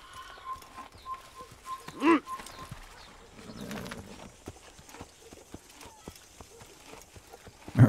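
Horse in the video game Assassin's Creed, with hoofbeats clopping through the clip and a short whinny near the middle, mixed with game ambience and scattered louder effects.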